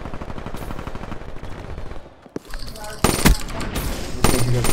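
A sentry gun fires in a hardcore team deathmatch round of Black Ops 3, loud rapid automatic bursts that drop briefly to near quiet, then return more intense and continuous.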